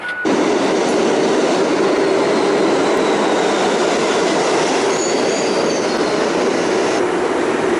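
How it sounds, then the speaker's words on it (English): A New York subway train rolls along the rails with a loud, steady roar and faint high wheel squeals, continuous and close throughout. "First meal in New York. And we're on a subway."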